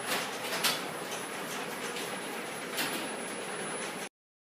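A slow residential garage door moving on a snowy day, giving a steady broadband rumble and rattle that holds at an even level for about four seconds before cutting off.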